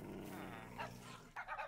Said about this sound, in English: We got some parrots barking.